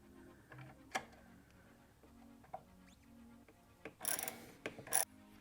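A long 10 mm battery clamp bolt on a MINI Countryman is loosened with a ratchet, giving quiet scattered clicks and metallic ticks with a few sharper rattles near the end, close and faint.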